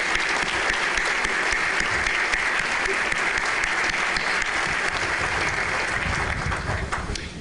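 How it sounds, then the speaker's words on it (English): Sustained, dense applause from a luncheon audience at a State of the City address, steady and full for several seconds before easing slightly at the end. "So let's all give them a big round of applause."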